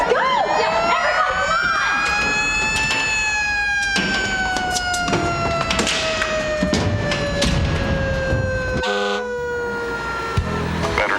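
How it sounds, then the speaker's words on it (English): Emergency sirens wail loudly and continuously in a comedy-show scene about an explosion at a power plant. Sliding siren tones run through the whole stretch, with brief bursts of other noise breaking in. "Sound the sirens!"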